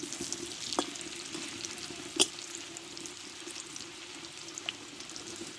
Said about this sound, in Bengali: দেখো আলুটা একটু টাইম নিয়ে কষতে হবে আলুটা একটু নরম করে নিতে হবে